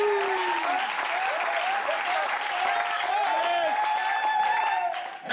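A church congregation applauds and cheers for the Lord in dense, sustained clapping mixed with shouts and voices, loud and continuous throughout.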